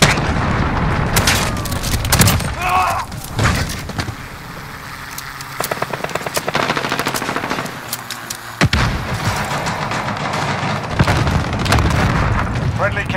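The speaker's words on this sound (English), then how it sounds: "Allied cruise missile away." A cruise missile strike in Modern Warfare multiplayer: booming explosions and rapid gunshots, loud and close, repeat through the scene, while voices talk over the action.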